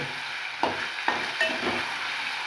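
Browned paneer pieces sizzle gently in a pan while being cooked for matar paneer, with a soft steady frying hiss and a few sharp stirring clinks rising above it.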